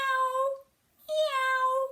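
A human voice imitates a cat's meow for young children, two drawn-out, clearly pitched meows separated by a short pause, close and loud with no other sound.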